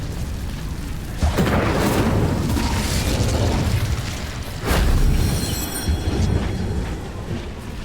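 Fire spell casts in the Hogwarts Legacy video game, two loud booming whooshes a few seconds apart over a continuous rumbling roar.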